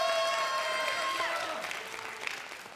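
Applause rises from a youth church congregation during a worship service, a short burst of clapping that thins and fades over a few seconds, mixed with a sustained musical tone and faint voices.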